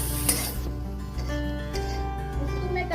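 Vermicelli and cumin powder being stirred in a pan, a steady sizzle with soft scraping of a spoon through the noodles, close and continuous with no talk.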